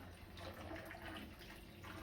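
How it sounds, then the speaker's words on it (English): Water pours from a tap into a bowl of bulgur kebbeh mixture, a steady close-up splashing and trickling rush that runs without a break and with no talk over it. "so add a bit more water"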